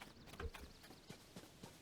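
Horse hooves in Zelda: Tears of the Kingdom clop in a quick, faint, uneven patter of soft thuds, distant and low in the game mix, with no talking.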